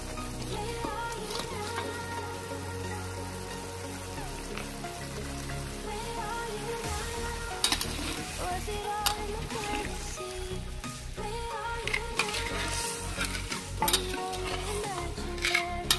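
Continuous soft bubbling and sizzling of thick coconut milk simmering in a pan while making shredded chicken floss, with occasional clinks of a utensil stirring, steady and close.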